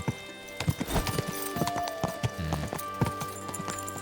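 A horse's hooves clip-clop at a steady riding pace in the medieval game Kingdom Come: Deliverance II, close and fairly loud, with a brief whinny and some game music underneath.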